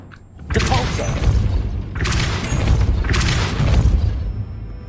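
Depulso spell cast repeatedly in Hogwarts Legacy, heard as three broad bursts of whooshing force with booming low thuds, each swelling and fading in close, loud succession.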